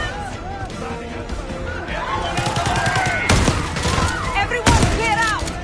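Gunfire in Call of Duty Black Ops 6, scattered shots and bursts crackling amid chaotic action, with a couple of sharp loud reports near the middle and end, under shouting voices and background commotion.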